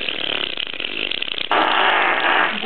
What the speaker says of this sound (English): Can you imagine how many times we could just really fart and no one would know?